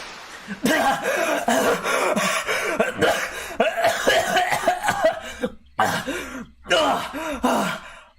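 A girl coughs and sputters in a rapid, wet series of close coughs and gasps after being thrown into water by a fallen tree, the fit broken by a few brief pauses.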